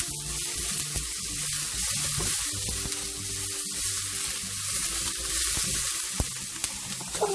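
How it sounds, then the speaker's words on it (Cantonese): Minced garlic and ginger slices stir-frying in oil used to fry lobster, a steady hiss and crackle in the wok with light scraping, close and alone. "俾蒜蓉啦、薑片啦落去爆一爆"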